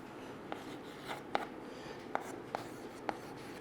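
Chalk or marker writes on a board during a chemistry lesson, making about six soft, short scratching strokes at an irregular pace against quiet room tone.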